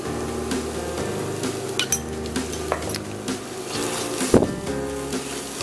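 Spiced potatoes being stirred in a frying pan with a utensil, giving soft scraping and clinking over a light sizzle, with a few sharper knocks against the pan.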